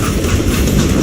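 Steady rolling train from the Western shooter game Call of Juarez: Gunslinger, a continuous loud rumble with a faint clickety-clack of wheels on rails throughout, no talking.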